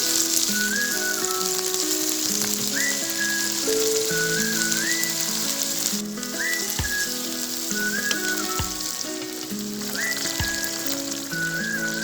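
Mutton liver frying hard on a high flame, a loud steady sizzle across the whole stretch with a few low thuds as tomatoes go in, while a faint melodic whistling sound repeats in the background.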